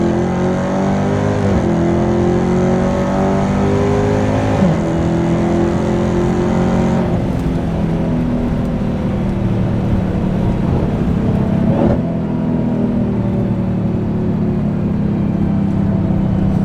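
A widebody Dodge Challenger Hellcat Redeye accelerates at part throttle from inside the car, a loud continuous engine drone with rising and falling pitch and a brief lift-off near the end, no talk.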